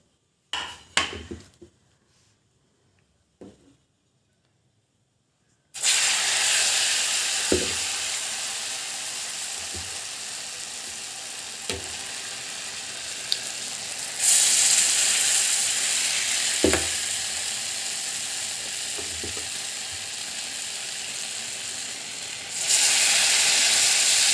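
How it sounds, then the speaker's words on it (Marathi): Potato vadas deep frying in hot oil, a loud steady sizzle that erupts after a quiet start with a few utensil knocks, swelling brighter partway through and again near the end, with occasional clinks of a ladle against the pan. "बटाट्याच्या चटणीचे असे वडे तयार करून घेतलेले आहे आता एक एक तळूया"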